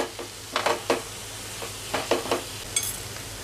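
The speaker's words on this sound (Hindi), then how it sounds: "1/2 टीस्पून हल्दी पाउडर डालेंगे। मिक्स कर लेंगे। 1 मिनट हम कुक करेंगे।" Cumin and turmeric powder cooking in a pan give a soft sizzle under several scattered stirring scrapes, fairly quiet and close.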